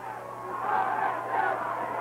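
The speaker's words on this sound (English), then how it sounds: "Listen to the crowd." Football crowd at a 1991 high school playoff game roaring and cheering, a steady wash of many voices swelling slightly mid-way, sustained and moderately loud with no single voice standing out.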